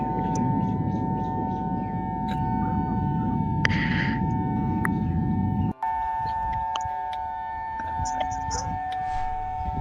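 A steady siren-like wail holds throughout at moderate level, blended with a constant low hum and rumble, briefly broken by a short cut midway, with a faint chirp-like blip here and there.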